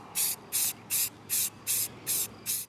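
Spray paint hisses onto a Logitech game controller in seven short, evenly spaced bursts, each a bright, close, loud hiss of about a quarter second separated by brief silences.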